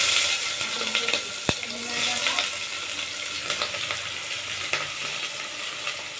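Oil and ingredients fry loudly in a pan for Bhai-style kuska, a constant crackling sizzle with a few sharp clinks of a spoon against the vessel and soft stirring scrapes, close and steady with no talk.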